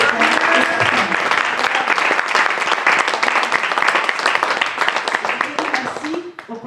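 A church congregation applauds, with dense, sustained clapping filling the room that thins and fades at the end, while a voice carries over the top.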